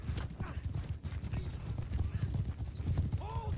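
Horse hooves clatter in Mount & Blade 2: Bannerlord cavalry battle gameplay, a rapid rhythmic clip-clop under busy battle noise, ending with a short neigh, and someone talks over it.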